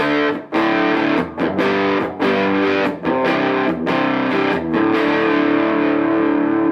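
A loud distorted electric guitar with its tone knob rolled fully back strums chords with a dark, muffled tone, sustained ringing with brief gaps between strums.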